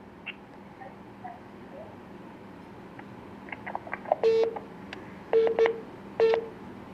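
Telephone tones as a caller's line cuts off during a live morning TV call-in programme: a few faint ticks, then a run of distinct electronic beeps, the last ones longer and louder, with no voices.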